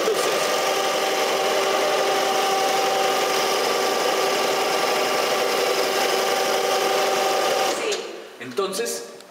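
Fuel-injected Yamaha motorcycle engine running steadily on a training display board at an assembly plant, a loud, even mechanical drone that cuts out near the end, followed by brief clatter and a voice.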